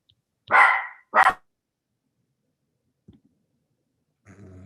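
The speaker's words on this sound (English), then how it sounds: "Now the dog's going crazy." A dog barks twice in close succession, loud and near, then goes quiet apart from a faint knock and some low murmuring at the end.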